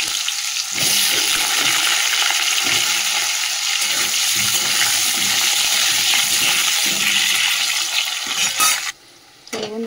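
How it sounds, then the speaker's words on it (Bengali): Potatoes frying in hot oil with cumin seeds and a bay leaf: a loud, steady close sizzle with occasional stirring clatter, fading sharply near the end. "আলুটা কেটে রেখে দিয়েছিলাম, আলুটা ভেজে নিই"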